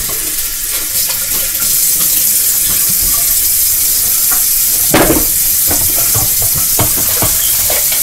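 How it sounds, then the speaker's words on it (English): Dishes, bowls and a pot used for popcorn and melted butter are washed under a running kitchen tap, with a steady water hiss and scattered clinks of dishware close by. "quickly wash my dishes,"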